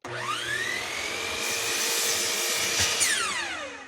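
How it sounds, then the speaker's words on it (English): Power saw trimming the end off a wooden drawer piece and cutting it to length, a steady loud whine that rises as the blade bites and tapers off as the cut finishes. "I trim off the end and then flip it around and cut it to length."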